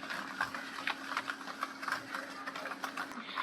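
A whisk beats eggs, sugar and refined oil together in a bowl for chocolate cake batter, giving a quick, steady clatter of strokes close by, with a faint hum underneath and no talking.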